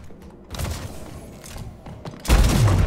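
Shotguns firing in Slipgate, a fast online shooter: a couple of dense bursting blasts, the last one loudest and heavy in the low end, close and abrupt.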